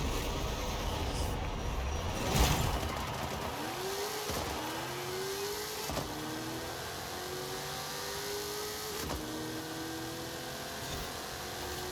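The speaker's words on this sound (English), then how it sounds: "I went to try and get a pop-up wheelie as we were launching." A muscle car launches hard in Forza Horizon 5, its engine rising through several climbing gear pulls, each ending in a brief break at the shift before the next. The engine snarls loudly and steadily throughout, with no voices.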